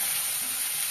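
Onion and garlic frying in a pan for Gobi manchurian, a steady close hiss and sizzle running evenly throughout with no talking.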